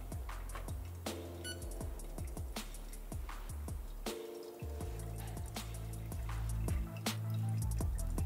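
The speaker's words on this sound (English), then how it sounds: "You just pour the water on your drip bag." Hot water poured over a coffee drip bag lakeside in Bukidnon, Philippines, heard as a string of close, crisp drips and trickles with a brief steadier pour, no voices.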